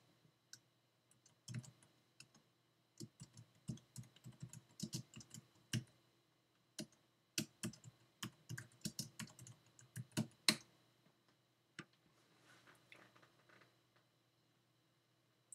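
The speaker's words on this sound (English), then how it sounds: "type in the items you want to add and click Enter" Items for a shopping list are typed on a computer keyboard in a quiet room, with bursts of soft, close key clicks in irregular runs, pauses between words and a few sharper taps like the Enter key.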